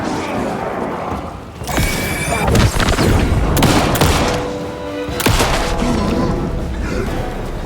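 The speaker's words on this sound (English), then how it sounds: "I heard gunshots." Rapid bursts of video game gunfire and sharp booms from Alan Wake 2 crackle over a dense, noisy background, loud and close, with bursts repeating across the stretch.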